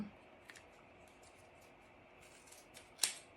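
A few quiet snips of scissors cutting yarn tails, with a small click early on and a sharper, louder snip near the end.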